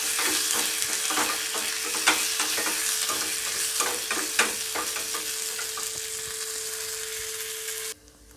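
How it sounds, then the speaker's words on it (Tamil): Dried chillies, sliced shallots and curry leaves sautéing in a pan for a vegetarian Tamil meal, a steady close sizzle broken by repeated sharp scraping stirs, with no voices; a faint steady hum runs underneath until the sound cuts off near the end. "அதுக்கப்புறமா கொஞ்சமாக கருவேப்பிலை எல்லாத்தையும் நல்லா வதக்கிக்கிறேன்."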